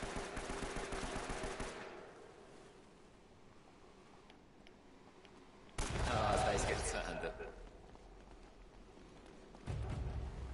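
Gunfire bursts from the video game Uncharted: Drake's Fortune, a heavy opening volley and then loud shots around the middle and at the end, with player chatter faintly audible.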